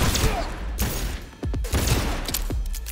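Cyberpunk 2077 gunfire: a rapid run of close, loud shots in uneven bursts, with a short pause between volleys and a little speech underneath.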